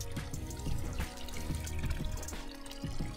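Water trickles and drips from an old stone fountain, a close, steady splashing with small irregular drops over a continuous watery wash, fairly quiet and without speech.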